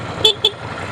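Two short quick beeps from the horn of a 2017 Ducati Scrambler Cafe Racer motorcycle, sounding close over a low background rumble.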